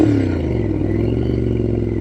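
A 2006 Triumph Scrambler 900 motorcycle engine holds a steady, loud, close drone while riding, with a low rumble and a slight pitch drop at the start, alone without talk.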